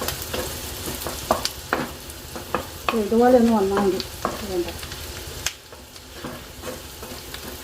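Onions fry in a pan for hotel-style Christmas special fried rice, giving a close, steady sizzle with stirring clinks and scrapes while a person talks briefly over it.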